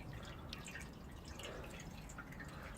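Water dripping from a leaking radiator valve fitting, faint quick drips over a low steady background.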